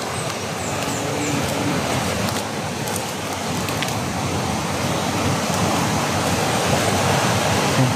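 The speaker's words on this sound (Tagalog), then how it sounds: "Lakas ng alon, tol. Agos ng tubig." Strong waves and fast-flowing water roar without a break, a loud, dense wash of churning current close by, with no talk over it.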